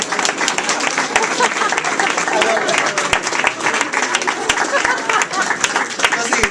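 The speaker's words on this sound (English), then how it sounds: "let's give him a round of applause." A large audience gives a sustained round of applause at a university economics end-of-year gathering, dense steady clapping filling the room for several seconds, with some voices mixed in.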